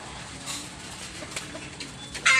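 Racing pigeons at feeding time give soft, scattered coos and flutters, faint and close, ending in a sudden louder burst of wing or feed noise.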